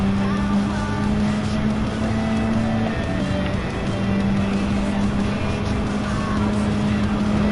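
A modified Renault Clio V6 in Gran Turismo 7 drones loudly and steadily at high revs, its engine note holding a sustained tone with a brief dip as it shifts or lifts, close and continuous throughout.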